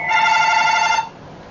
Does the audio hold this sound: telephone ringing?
yes